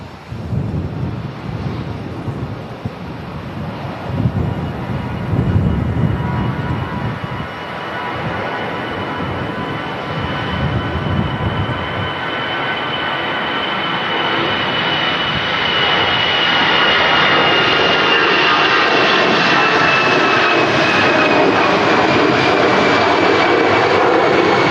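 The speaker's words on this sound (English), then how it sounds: "we got the Aer Lingus Retro now taking off" An Aer Lingus airliner in retro livery takes off at Manchester Airport, its engine roar loud and rising, broadband and sustained, with gusts of wind buffeting the microphone early on.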